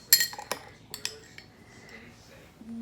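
A metal spoon clinks sharply a few times against a dish or container while an egg is handled, with several bright, brief taps in the first second, then quieter handling noises.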